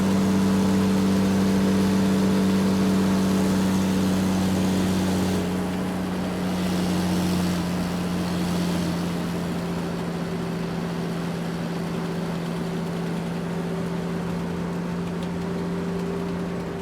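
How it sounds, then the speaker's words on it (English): An airport luggage lifter's engine runs in a steady, mid-pitched drone, its tone dipping slightly partway through, continuous and fairly loud with no voices. "Luggage lifter."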